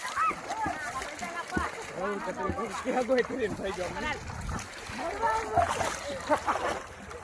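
Several people splash water, making irregular wet slaps and spatters close by, mixed with lively overlapping chatter and shouts throughout.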